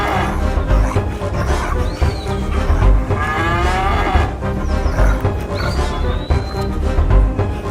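Several cartoon cows moo loudly and repeatedly over a busy, noisy backdrop, their drawn-out calls overlapping at close range.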